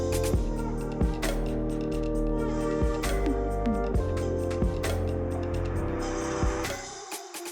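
A Ford Bronco pulls out of a parking lot at the start of the Poison Spider off-road trail, its engine rumbling steadily and close, with occasional knocks and bumps over the whole stretch before it eases off near the end.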